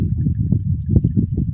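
Rainwater running across a farm field during rain, a close, steady low flow with gurgling pulses and small splashy bursts.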